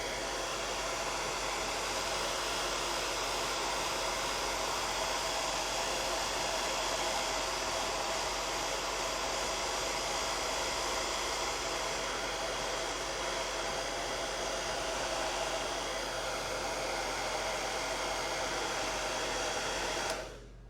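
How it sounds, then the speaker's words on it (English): A hair dryer blows steadily at close range for about twenty seconds to dry hairspray weathering on a cast resin model kit, giving a loud, even whooshing roar with a motor whine that cuts off abruptly at the end. "And hair dryer again."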